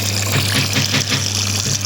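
Feathers being washed by hand, water splashing and sloshing in a continuous close watery churn over a low steady hum.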